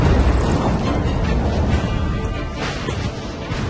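Massive artillery bombardment of Okinawa in World War II: dense, loud, continuous roar of shelling and blasts with no gaps and no voices.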